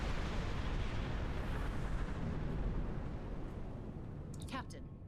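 Explosion of the Doomsday Machine in the Star Trek Online video game: a sustained, loud rumbling roar that slowly fades, with a few brief higher chirping effects near the end.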